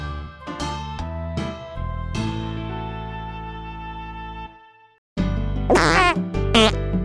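A cartoon fart sound effect plays as a series of buzzy, tonal blasts. A long sputtering run is followed by a short pause, then louder wobbling squeaks.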